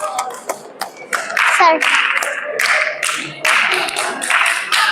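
Hand claps ring out inside Golkonda Fort in a stone hall, first as a few sharp separate claps and then as a burst of them, each with a lingering echo. Voices talk around and between the claps.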